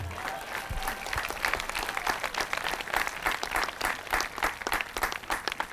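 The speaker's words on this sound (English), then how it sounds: "that's worth an applause" Sustained applause from a high school graduation audience in 2018 honoring the graduating class, a dense wash of many hands clapping with no talk over it.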